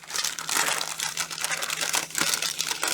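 Steady crinkling and crunching as a blade cuts into gray molded plastic from a model kit, dense and continuous at close range with small rhythmic surges.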